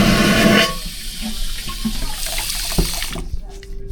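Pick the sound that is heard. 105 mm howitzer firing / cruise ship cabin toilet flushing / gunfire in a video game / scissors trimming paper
cruise ship cabin toilet flushing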